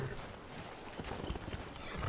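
Horse hooves clip-clopping in the video game Skyrim, a quiet, busy patter of hoofbeats over faint ambient game noise, with no talking.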